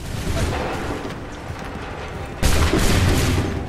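A musket volley in the video game Assassin's Creed III during the Battle of Lexington, a dense crackling burst of gunfire rolling across the battlefield, then a second louder volley rising sharply near the end.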